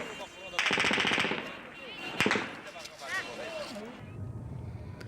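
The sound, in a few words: gunshots fired near Kabul airport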